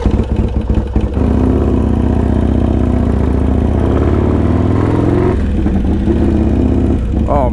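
Harley-Davidson Iron 883 Sportster being ridden, its engine loud and steady throughout with revving swells and a gear change near the middle, close to the microphone.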